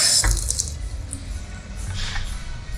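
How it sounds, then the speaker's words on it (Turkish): Water gushes steadily from a faucet, a continuous broadband rush lasting the whole moment at moderate loudness, with no voices over it. "Şu musluğa bakın nasıl diyeyim. Ha, şelale."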